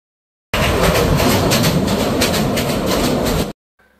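A train crossing the Ghorashal railway bridge over the Shitalakshya river: a loud, close, continuous rumble with rhythmic clatter for about three seconds, then cutting to near silence.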